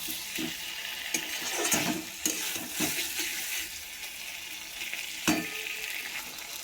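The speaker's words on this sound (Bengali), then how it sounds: "আর আজকে আলু ভেজে এর মধ্যে মশলাটা দিয়ে দিয়েছি।" Potatoes with spice paste frying in a pan give a dense hissing sizzle, broken by repeated scraping stirs and a few sharper clatters.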